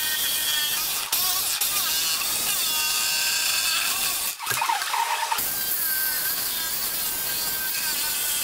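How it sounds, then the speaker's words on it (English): A jigsaw saws through the metal bands of a barrel being cut into halves for a planter, giving a loud, continuous high-pitched rasping buzz that breaks off briefly around the middle before resuming. "So I opted to use the jigsaw and it seems to work okay."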